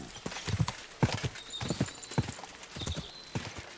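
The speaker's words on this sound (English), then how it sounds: "A horse? What's it doing here in the woods?" A horse's hooves clip-clop in an uneven walking rhythm through the woods in Kingdom Come: Deliverance II, close and fairly loud, with faint snorting between steps.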